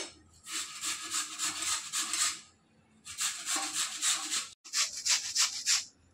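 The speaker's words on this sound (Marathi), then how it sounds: "आता मी बटाट्यांना किसून घेते आहे." Peeled potatoes are grated by hand on a kitchen grater, three bursts of brisk, close rhythmic scraping strokes separated by short pauses, with no talking.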